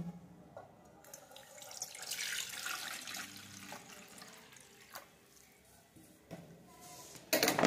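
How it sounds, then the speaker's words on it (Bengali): Warm water poured into rice flour mixed with salt in a kitchen, a steady splashing pour that swells and continues for several seconds before a sharper knock near the end, with no talking. "লবণ দিয়ে দিলাম, গরম জল, উষ্ণ উষ্ণ গরম জল"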